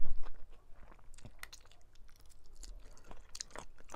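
Crunchy chewing and biting on spicy Thai chicken-feet salad (tam chua), close to the mouth, with irregular wet crunches and bites spread across the clip and no talking.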